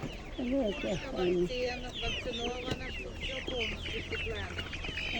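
Live hens clucking at an open-air produce market, several birds cackling close and busy in repeated bursts, with market voices chatting underneath.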